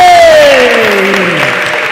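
An audience at an entrepreneurs' event breaks into a loud, sustained round of applause. A falling whistle-like tone or whoop glides over the clapping.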